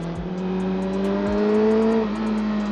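A Kawasaki ZXR400 motorcycle engine revs up close, a climbing steady whine held for about two seconds before dropping back, with no talk.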